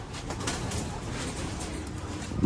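Pigeons cooing softly in a loft amid steady low rumbling background noise, a continuous murmur of birds close by.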